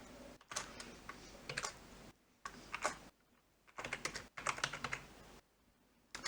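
Code being typed on a computer keyboard in quick bursts of close, crisp key clatter separated by brief pauses, with no talking.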